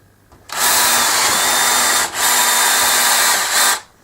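A power drill whirs loudly during an Xbox 360 controller repair, two long continuous runs separated by a short pause, with no talk over it.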